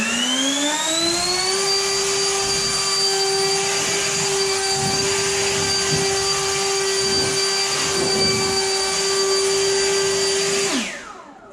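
Greenworks Pro 80V battery leaf blower roaring steadily on its highest typhoon setting, a loud sustained whine that ramps up at the start and runs continuously for about ten seconds before cutting off abruptly.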